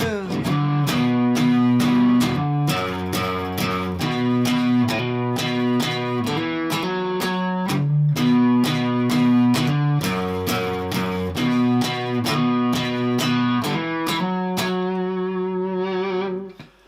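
A distorted electric guitar plays the fast repeating riff of a song with chugging notes, steady and loud, ending on a ringing held chord.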